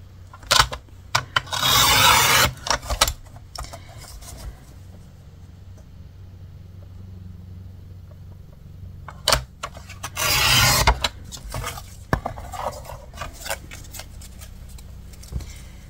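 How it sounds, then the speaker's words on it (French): Paper strips about 11 cm long and 2 cm wide are cut for a scrapbooking card. Two long rasping cutting strokes stand out, with scattered light clicks and handling taps between them in a quiet room. "je vais me couper des bandes de 11 cm"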